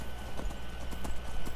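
Horse hooves clip-clop in the video game Skyrim, a steady run of close, fairly loud hoofbeats over a constant background hum, with no talk.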